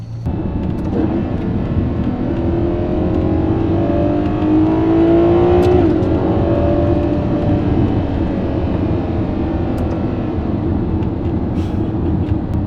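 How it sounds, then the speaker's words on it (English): A Ferrari 12Cilindri accelerating, its exhaust a loud, steady roar heard from inside the car with the window down, with engine tones rising and sweeping upward midway through. "Oh, that exhaust is definitely louder."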